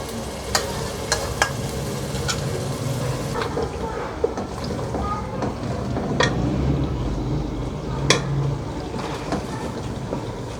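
Yogurt fries with a ginger and green chili masala in a pot for a chickpea and meat curry, giving a constant crackling sizzle with repeated sharp spoon scrapes and clinks close by.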